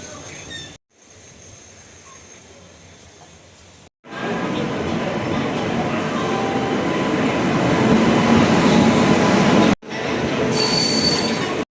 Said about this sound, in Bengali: এখন রাজধানী এক্সপ্রেস আসবে